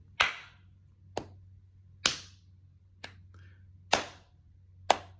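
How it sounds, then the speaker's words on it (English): Hands clap a rhythmic beat cycle from Carnatic tala counting, six sharp, close claps spaced about a second apart, alternating louder and softer strikes in a quiet room with no speech. "you can clap, if you want, the first clap a little louder"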